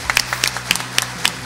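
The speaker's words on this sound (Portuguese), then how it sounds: "Eu queria pedir uma salva de palmas para eles." A small audience at a bakery awards ceremony claps in short, scattered bursts. The claps stand out as sharp, close hits over a quiet room, and the applause is brief and thin.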